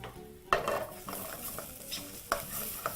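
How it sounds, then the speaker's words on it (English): Paprika and spices fry in a pan while being stirred, a steady sizzle broken by a few sharp scrapes and clinks of the utensil against the pan, close and moderately loud with no talking. "Now proceed to fry that continuously."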